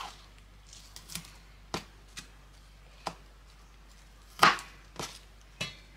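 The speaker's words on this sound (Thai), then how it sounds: "หั่นให้มันชิ้นเล็ก" A knife chops vegetables into small pieces on a board in a home kitchen, irregular sharp taps with one heavier knock, close up over a quiet background.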